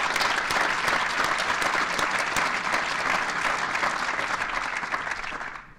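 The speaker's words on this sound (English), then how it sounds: "So I'd like to give them a round of applause for their leadership also." A round of applause from an audience at a School of Business gathering honoring faculty leadership: full, even clapping from many hands, sustained at a steady level before thinning out toward the close.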